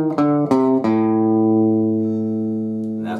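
Three plucked guitar notes in quick succession, the last an open third string left ringing and slowly decaying, from a song's intro; clear and close, with no talking.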